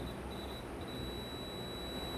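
A continuity tester buzzer sounds across a good fuse as a thin, steady high-pitched tone. It drops out briefly near the start, then holds faint and unbroken over a low background hum.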